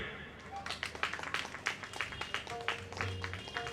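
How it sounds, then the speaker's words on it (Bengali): Scattered clapping from a small group at an annual club event, uneven and moderately loud, with people talking at the same time. "সবাই হাততালি জোরে।"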